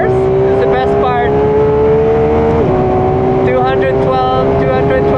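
A Ferrari race car at Clark Speedway climbs up through the gears, its loud close engine note rising steadily, dropping sharply at a shift and rising again, with a voice talking over it.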